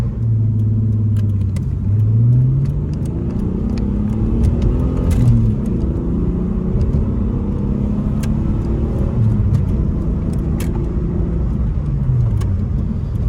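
A car with a rebuilt engine roars as it accelerates hard from 0 to 45, its pitch climbing repeatedly through gear changes, loud and close with a constant rumble.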